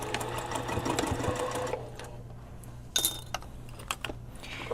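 Sewing machine stitching fabric for a dress with puffy sleeves: a fast, close mechanical whir for about two seconds, then quiet with scattered clicks and taps as the machine stops.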